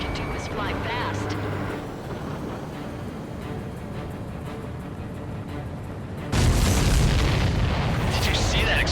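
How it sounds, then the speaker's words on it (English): Explosion in the combat flight game Ace Combat 7, a sudden loud boom that cuts in over a steady rumble of jet engine noise, with talk heard around it. "Did you see that explosion?"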